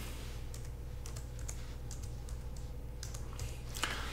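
Soft, quick keystrokes tapped on a computer keyboard, a handful of light clicks scattered over four seconds above a low steady hum.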